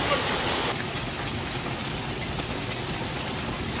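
Torrential rain pours during a violent storm with strong winds and hail in northern Italy, a loud, unbroken rushing wash with no clear voices.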